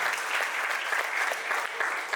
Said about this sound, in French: un tonnerre d'applaudissements pour tous les projets des web